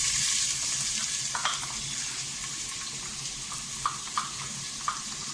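Chopped onion sautéing in hot oil with whole spices, a steady close sizzle with occasional light stirring clicks and no talking.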